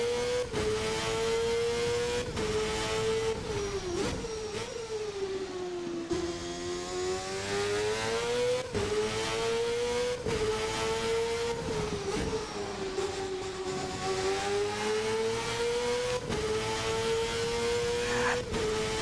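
VRC Formula NA 1999 race car in a video game, its engine revving hard and steady with repeated upshifts, each followed by a pitch drop and a brief wobble, then climbing again, loud and close throughout.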